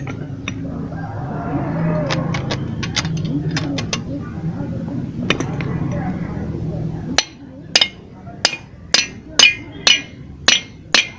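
Part of a Bajaj two-stroke engine being tapped out in a workshop: metallic clinks and knocks, scattered at first under talk and background rumble, then a run of sharp, evenly spaced taps ringing out loud and close.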